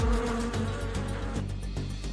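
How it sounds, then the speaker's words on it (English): Bees buzz angrily in a dense, continuous drone, loud and close, with a steady hum filling the whole clip and no talking. "But bees seem to be angry."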